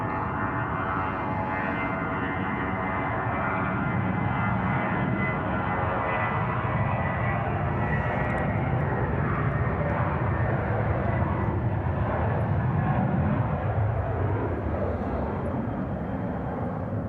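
A Jetstar Airbus A321 jet takes off from runway 34 left at Sydney Airport, a steady roaring engine rumble heard from a distance that holds throughout and gradually fades toward the end.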